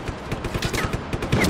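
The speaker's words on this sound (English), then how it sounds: "You're shooting me with a shotgun from there" Rapid, loud gunfire bursts from a shotgun in the video game Just Cause 3, a dense volley of close cracking shots in quick succession with no talking.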